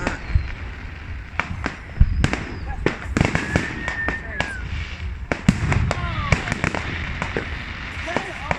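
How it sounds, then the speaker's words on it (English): Fireworks burst repeatedly in a celebratory outdoor display, sharp loud booms and crackling pops scattered irregularly, some near and some farther, amid excited voices. "fireworks. This one's a big one."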